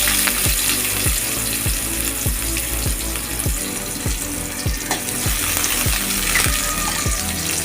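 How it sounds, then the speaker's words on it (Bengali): Chopped onion frying in oil, with a fish head added, makes a constant close hiss and crackle, cut through by regular low knocking thumps at an even pace. "একটু লাল লাল করে ভাজে নিতে হবে।"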